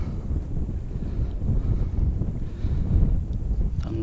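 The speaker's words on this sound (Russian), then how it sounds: "Правда, ветер будет очень сильно мешать." Strong wind gusts buffet the microphone outdoors by water while fishing, with a continuous low roar, no voices heard.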